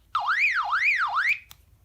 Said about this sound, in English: my Retevis RT27V Mars radio that was sending out an alarm tone